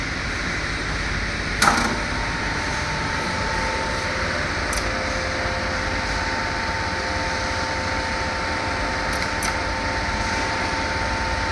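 Motor of an MHHC 2 hose crimping machine runs with a steady, even mechanical hum throughout, plus a sharp click near the start.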